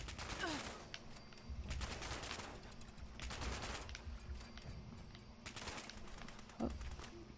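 Gunfire rattles in Fallout 76: several bursts of rapid shots come and go over a few seconds, loud and sharp against a steady background, with a bird-like coo in between.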